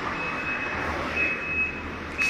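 A civil protection ambulance arrives with its reversing alarm sounding: steady repeated high beeps over a low, idling engine rumble, moderately distant and without speech.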